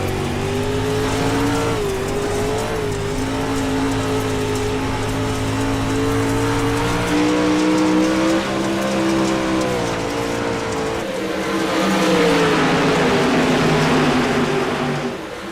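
Dirt track race cars at Knoxville Raceway roar off at the start of a heat, a loud, continuous pack of engines with rising and shifting pitch as they accelerate, no voices over it.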